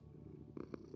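A cat purrs contentedly in a video game, producing a low, soft, continuous rumble that is close and quiet, with no voices over it.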